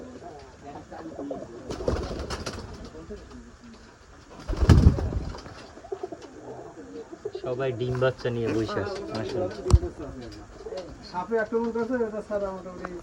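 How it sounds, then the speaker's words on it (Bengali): Sirazi pigeons in a village loft netted over the top and on all sides coo repeatedly in soft, throaty phrases, with a few wing flutters and nearby voices talking over them. "দেখেন এখানে কবুতরের সেট কত সুন্দর মাসাল্লাহ উপর দিয়ে জাল দিয়ে চতুর্দিক থেকে আটকানো আছে"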